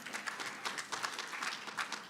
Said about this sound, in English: I can't believe that's the biggest applause line.